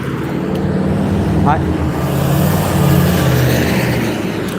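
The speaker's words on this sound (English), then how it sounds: "I hate loud ass trucks so goddamn much." A loud truck roars past close by, its rumble swelling and fading, with a voice briefly heard in the middle.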